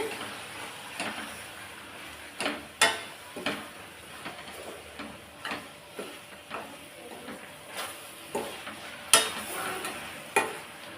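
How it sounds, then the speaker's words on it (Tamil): Ingredients for a village-style dry fish curry (karuvattu kulambu) are sautéed in oil, a quiet sizzle beneath regular sharp spatula scrapes and taps against the pan, about one every second. "இப்போ இதையும் நல்லா எண்ணெயிலே வதக்கி விட்டுறலாம்"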